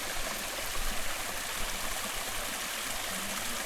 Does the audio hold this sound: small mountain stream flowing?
yes